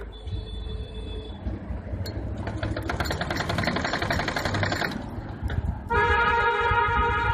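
A sewing machine stitches the sleeve of a single katori blouse, its motor whirring in a fast, steady mechanical run for a few seconds, framed by a low background drone and a sustained tonal hum.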